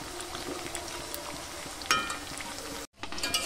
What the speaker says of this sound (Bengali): তো এভাবে আমি উল্টে পাল্টে সব ভেজে নেব।